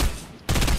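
Gunfire in an online shooter match, a dense burst of shots that cuts out briefly and then resumes loud and close, with no talking over it.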